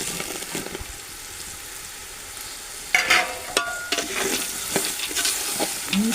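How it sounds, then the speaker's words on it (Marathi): Peanuts and coconut go into poha chivda frying in a pan, giving a steady close sizzle that turns louder and busier halfway through, with scraping stirs and clicks over it. "आपण त्याच्यामध्ये आता हे शेंगदाणे आहेत आणि खोबरं ते पण टाकणार आहोत"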